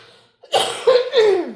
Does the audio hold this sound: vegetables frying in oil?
no